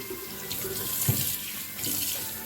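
Tap water runs steadily into a sink while vegetables are washed under it, a close, continuous splashing flow with brief louder splashes as the produce is handled.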